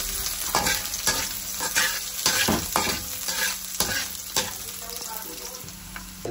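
Garlic fries in cooking oil in a frying pan, a loud, continuous sizzle broken by sharp scrapes and clinks of stirring, with no voices.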